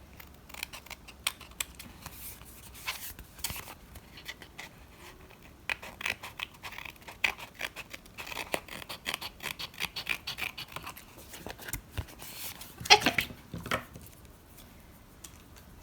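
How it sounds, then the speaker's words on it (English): Scissors snipping excess paper off a craft tag, a series of close, dry crisp cuts and rustles at irregular intervals, fairly quiet with a few louder snips. "I'm gonna just cut off the excess here."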